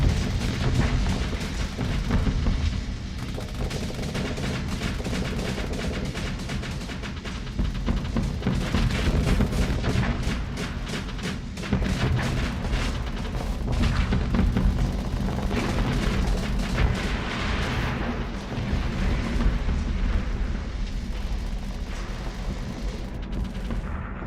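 Continuous heavy booming and explosive blasts from torpedoes and weapons fire during a space combat battle in the game Starsector, dense and loud throughout with no pauses.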